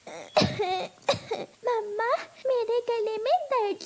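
A cartoon child coughs twice in sharp bursts, then speaks in a strained, whiny voice, with more short catches between words, close and clear.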